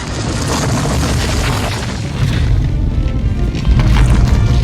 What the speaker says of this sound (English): the sound of the ball he's running from is the same as the rolling boulder